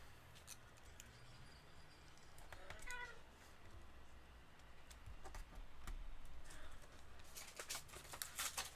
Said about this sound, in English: That cat is ripping up one of the boxes in my room.